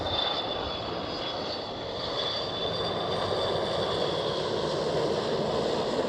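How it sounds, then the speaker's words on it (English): A KLM Airbus A330 jet airliner at Schiphol Amsterdam roars steadily and loudly with a broad, continuous engine rumble and a high whine, sustained throughout without speech. "KLM A330"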